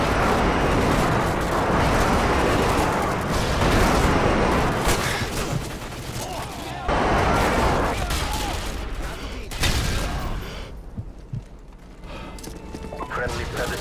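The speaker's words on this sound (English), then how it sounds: "Friendly airstrike on the way." An airstrike in Call of Duty Modern Warfare 2 brings loud, continuous rumbling explosions and rattling gunfire that ebb and surge throughout, with an in-game radio voice talking over the battle.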